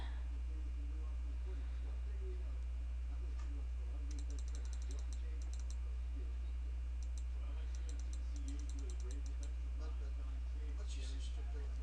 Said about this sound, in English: I'll click on upload and see what I have in our pictures.